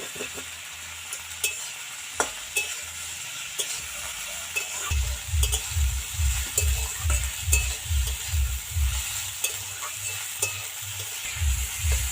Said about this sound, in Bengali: কচুর লতিটা খুব ভালো করে কিন্তু ভাজা ভাজা করা লাগবে